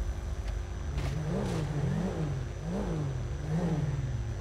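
A motorcycle engine revs in a roleplay video game, its pitch swelling and falling in repeated surges over a steady loud drone, with no talking.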